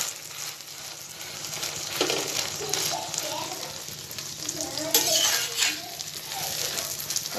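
An egg roll frying in a pan crackles and sizzles steadily, with bursts of bubbling and light utensil clinks as it is pressed down, while a voice briefly murmurs over it.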